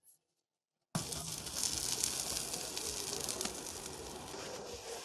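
Sausages grilling over a barbecue built from an old water heater, a steady soft sizzle and faint crackle that begins abruptly after a short silence and continues evenly at low volume throughout.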